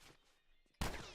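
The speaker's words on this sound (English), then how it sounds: "Those gunshots were super loud. They're disorienting." A sudden loud burst of video game gunfire erupts after a stretch of quiet, low rumbling, with sharp reports and echoing tail filling the end.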